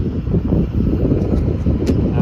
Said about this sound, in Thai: ลมค่อนข้างแรงมาก